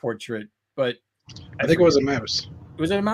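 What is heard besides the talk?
None of the usual background noises is heard.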